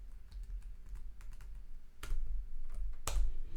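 Keys clack on a computer keyboard as Python pandas code is typed, a quick run of light taps followed by a couple of louder, heavier key strikes.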